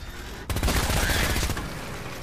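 Sudden burst of rapid gunfire in the Fallout 4 video game, loud and dense after a brief quiet lead-in, rattling continuously for over a second and a half before easing off.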